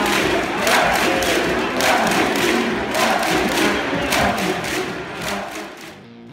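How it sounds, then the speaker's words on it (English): Stadium crowd at a soccer match chanting FCC in rhythmic, repeated beats, loud massed voices with thumping accents rolling steadily. "the entire crowd just FCC, FCC, FCC"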